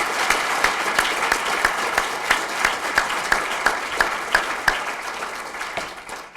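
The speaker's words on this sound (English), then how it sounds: "So can we just start with a round of applause for the finalists who have put all the work in this far?" An audience at a university start-up competition award ceremony claps for the finalists, a steady, fairly loud round of applause with distinct near hand claps throughout, fading slightly at the end.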